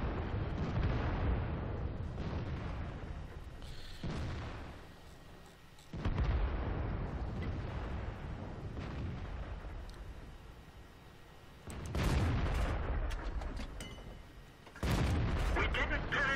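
Repeated heavy booming tank gunfire in World of Tanks, several deep blasts spaced a few seconds apart, each decaying into a rumbling tail, with a mid-round ricochet impact in the battle.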